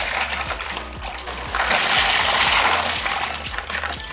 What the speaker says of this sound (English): let's go ahead and wash these rocks off